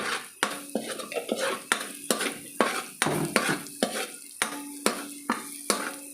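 Bopis being sautéed with pepper in a pan, with a spatula scraping and clinking against metal in a steady rhythm over a soft sizzle, close up, no talking.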